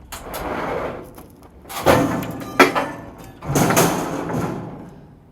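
A door is forced open during a tactical entry, with several heavy impacts and bangs separated by shuffling noise, loud and close.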